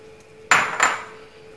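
Two quick clinks of a utensil against a bowl while seafood and calamari are stirred into a mixture, sharp and close, about a third of a second apart, then a quiet kitchen.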